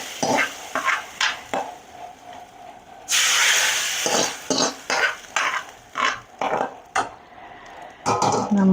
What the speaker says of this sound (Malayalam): ഇനി അതും കൂടെ കറിയിലേക്കാണ് ഒഴിച്ചു കൊടുക്കുക